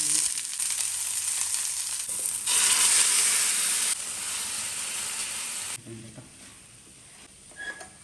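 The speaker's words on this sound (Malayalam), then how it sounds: "പിന്നെ കായും കൂടി ഒന്ന് മെഴുക്ക് പുരട്ടി എടുക്കുകയാണ്." Raw banana (kaya) sizzles as it is stir-fried in a pan with spice paste. A steady, loud hiss and crackle fades partway through to quieter sizzling, with a few faint scrapes near the end.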